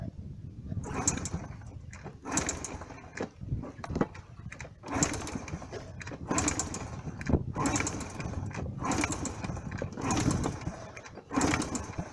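A Honda CT110 motorcycle engine cranks over with the throttle open during a compression test, giving loud, rhythmic chugging pulses close to the microphone that repeat roughly every second.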